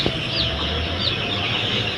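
Broiler chickens cluck and chatter together in a dense, continuous flock murmur, close and fairly loud.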